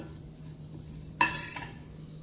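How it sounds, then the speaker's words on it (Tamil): Curry leaves dry-roasting in a pan while being stirred; a single sharp scrape and clink of a utensil against the pan stands out over faint background hum, then fades. "கருவேப்பிலை 5 கொத்து போட்டுக்கலாம். இது கிறிஸ்பியாக ஆகிற வரைக்கும் வறுத்துக்கலாம்."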